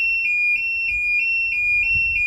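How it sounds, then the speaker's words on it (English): Xtreme Beam mobility safety system alarm sounding as a loud, piercing, high-pitched beep repeating rapidly and evenly at about three pulses per second, with no other sound. "this is basically what the alarm sounds like"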